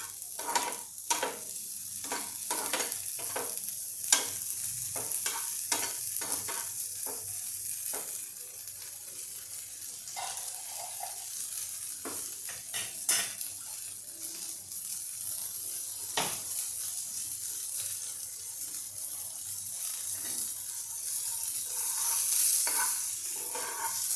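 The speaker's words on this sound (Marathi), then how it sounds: "एकतर हे फ्रोझन कॉर्न्स आहे त्याच्यामुळे मी हे थोडेसे बटरवर भाजून घेते" Frozen corn kernels roasting in butter in a pan, a steady close sizzle with repeated scraping strokes of a spatula stirring them, continuing evenly for a long stretch without talking.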